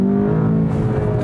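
A 2019 Volkswagen Jetta GLI engine in loud exhaust mode, a steady, loud, close drone of revving with strong low harmonics that waver slightly, heard alone.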